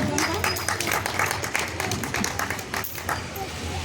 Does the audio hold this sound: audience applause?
yes